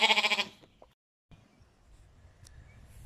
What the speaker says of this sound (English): I think the lambs beside them want to go too. They're saying, take me, take me.